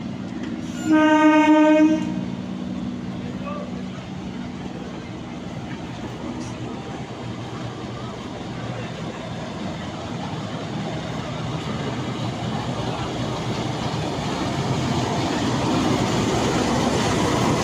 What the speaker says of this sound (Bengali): train number 12347 up Howrah Rampurhat শহীদ এক্সপ্রেসের শান্টিং হচ্ছে হাওড়া জংশনের 7 নম্বর প্ল্যাটফর্মে